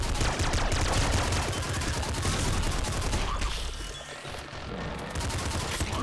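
A sentry turret fires in the video game Nuclear Throne, producing dense, continuous rapid-fire bursts layered with impacts and blasts, loud and unbroken apart from a brief dip, with no talking.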